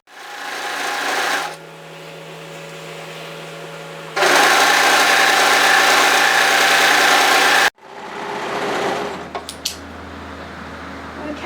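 Sewing machine stitching striped fabric on a cardigan with a waterfall collar, a loud steady whirring motor in several bursts separated by pauses, with brief clicks and handling sounds near the end.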